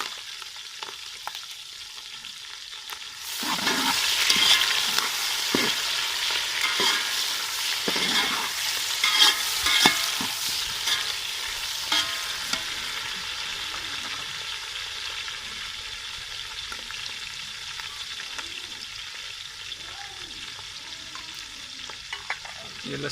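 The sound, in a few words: tomato, ginger and green chili frying for masoor pulao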